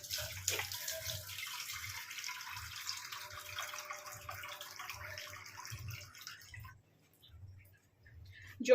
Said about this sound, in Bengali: এবার আমি এতে জল দেবো।